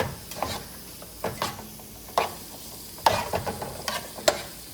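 Shrimp sizzle steadily in hot oil in a pan while a utensil scrapes and stirs every second or so, close up.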